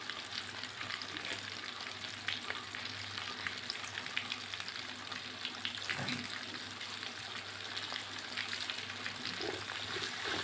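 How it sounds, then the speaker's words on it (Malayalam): Sliced onion and curry leaves frying in a pan for Kerala chicken stew make a steady, moderately close sizzle and crackle for the full stretch, with no talking. "ഇതെല്ലാം കൂടെ നമുക്ക് ഫ്രൈ ആക്കി എടുക്കണം"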